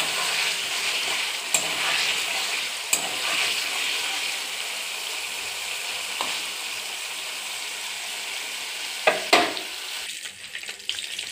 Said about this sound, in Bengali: পনিরগুলো দিয়ে দিয়েছি, হালকা করে ভেজে নেব, বেশি ভাজবো না, লালও করব না, সামান্য একটু তেলে নাড়িয়ে নেব